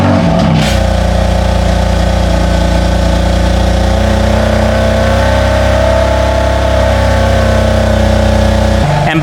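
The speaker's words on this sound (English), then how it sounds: "this is gonna be the cold startup on the stock exhaust and the stock mid pipe" Cold startup of a car on its stock exhaust and stock mid pipe: the engine catches with a brief burst, then settles into a loud, steady, close droning idle that holds for several seconds.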